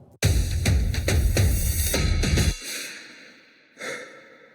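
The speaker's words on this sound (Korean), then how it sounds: "음악이 나오다가 숨소리로 대체를 해놓은 상태예요" Heavy, rhythmic breathing, several loud breaths in quick succession, then a long fading exhale and one softer breath near the end.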